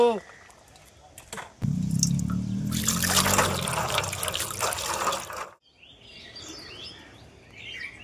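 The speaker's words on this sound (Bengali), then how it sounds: "এবারে মটরশুঁটিগুলো ভালো করে ধুয়ে নেব।" Green peas being washed in water, a tap running and splashing for a few seconds over rustling, with a voice speaking briefly and birds chirping faintly in a village setting afterward.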